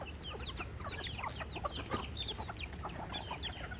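Chickens cluck repeatedly at close range, a busy overlapping flock with short bursts of calls and no talking.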